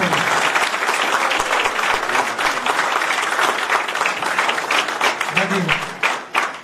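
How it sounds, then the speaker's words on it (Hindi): A crowd applauds at a Karni Sena workers' meeting in Jharkhand, a dense, loud and steady roar of clapping with voices talking beneath it. "इनके नाम की तो तालियां बजती रहनी चाहिए"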